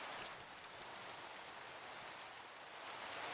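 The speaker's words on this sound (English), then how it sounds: "this is a little ridiculous how long it's been raining" Steady rain falling in Minecraft, a constant soft hiss of drops with no breaks, heard quietly and alone.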